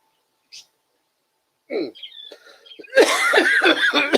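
A single person gives a sharp, close cough that breaks into a short burst of rough, throaty hacking in a quiet room, with a tiny click just before it.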